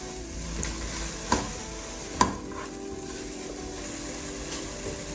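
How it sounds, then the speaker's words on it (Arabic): Spices and tomato paste frying for Indian dal makhani while being stirred, a soft continuous sizzle with a couple of distinct scrapes or knocks of the spoon against the pan, no talking. "بنقلبهم مع بعض."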